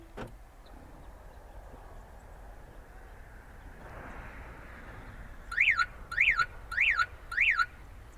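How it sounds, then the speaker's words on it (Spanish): Four short, sharp rising-falling electronic chirps from a car alarm siren warning that a door is open, evenly spaced, sounding over a low background hum after several seconds of near quiet. "la alarma me está dando un aviso con la sirena de que una de las puertas está abierta"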